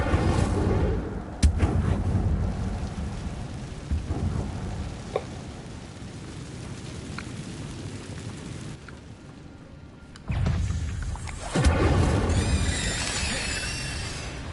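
Incendio fire spell cast in Hogwarts Legacy on PS5: booming, crackling blasts and rumbling bursts, loud and close, recurring over a dense game soundscape with a quieter lull before the bursts return.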